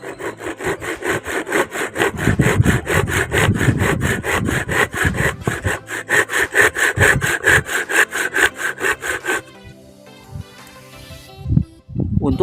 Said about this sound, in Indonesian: untuk gergajinya ini sudah siap, langsung saja kita tes ya, apakah masih menjepit teman-teman